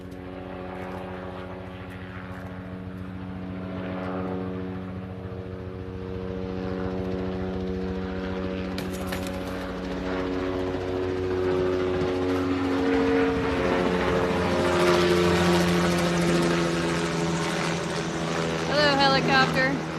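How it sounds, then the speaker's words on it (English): A helicopter's rotor hum grows louder as it passes overhead, a steady droning throb with people talking nearby beneath it. "we'll pray for wherever that helicopter's going"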